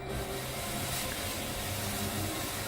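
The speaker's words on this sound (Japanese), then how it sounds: "スモークマシンってやつですね" A smoke machine in a home theater with DMX stage lighting sprays smoke in a steady, continuous hiss that lasts the whole stretch, with no voices over it.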